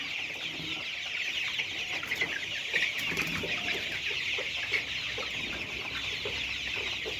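Layer chickens on a poultry farm cluck and murmur together, a continuous flock chatter with scattered louder clucks rising over a steady background hum.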